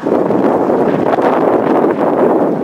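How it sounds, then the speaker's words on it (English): Strong wind buffets a camera microphone outdoors at a Christmas market in Lincoln, a steady loud rumbling roar that fills the whole clip without letting up. "God, wind's got up, cold here."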